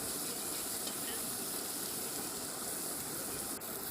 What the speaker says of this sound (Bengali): সেই কড়াইয়ের মধ্যে দেবো আর একটু পরিমাণে সরিষার তেল, তার মধ্যে দেবো পেঁয়াজ কুচি